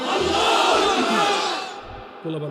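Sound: crowd shouting takbir response at religious gathering

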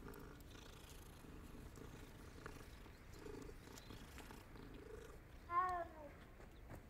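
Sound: cat purring while petted in Hogwarts Legacy video game

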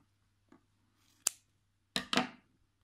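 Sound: scissors cutting crochet yarn

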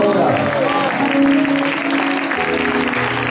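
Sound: church congregation applause

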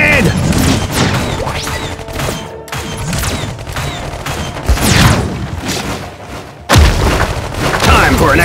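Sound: grenade explosion in Iron Marines video game

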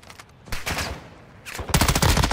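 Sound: enemy gunfire in video game Call of Duty DMZ

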